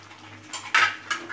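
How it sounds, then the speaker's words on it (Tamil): Metal spoon scraping and clanking against a pan while squid rendang masala is stirred and sautéed in oil, a few sharp close strikes over a faint low hum. "இப்போ இதெல்லாம் நல்லா கிளறி பச்சை வாசனை போகிற வரைக்கும் நல்லா வதக்கி எடுத்துப்போம் எண்ணெயில்"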